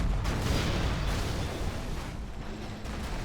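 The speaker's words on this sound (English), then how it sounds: "This dozer here is even taking a load of damage from that explosion." A heavy explosion rumbles in a real-time strategy game battle in Canyon of the Dead, a dense, sustained blast of low roaring noise that stays loud across the whole stretch with no speech.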